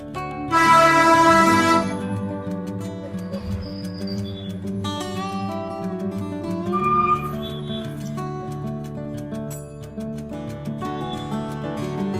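A souvenir toy train from the Salar Jung Museum shop in Hyderabad plays a loud electronic horn blast, then chirpy tones and melodic toy sounds, close and alone without talk.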